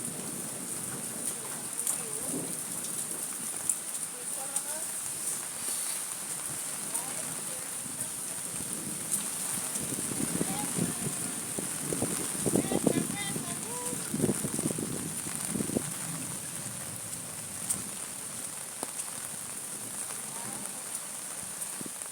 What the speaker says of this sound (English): It's a rainy day today.